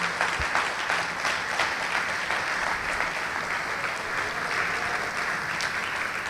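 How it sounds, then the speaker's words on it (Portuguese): A church congregation applauds together, a dense, steady roll of clapping from many hands that fills the room for several seconds, with hardly any voices over it. "Vamos aplaudir o Senhor."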